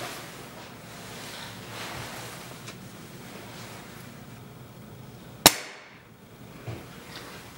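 A Beeman .22 air rifle fires a single pellet shot, a sharp crack that stands out against quiet outdoor ambience before a brief fading tail.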